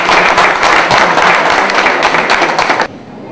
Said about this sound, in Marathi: जोरदार टाळ्या वाजत राहतो.